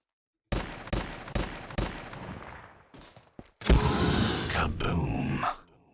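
An Insta-kill powerup plays in an Unreal Engine 5 game modeled on Call of Duty Zombies: a series of sharp, loud percussive bangs, then a sustained roaring blast that lasts a couple of seconds before cutting off.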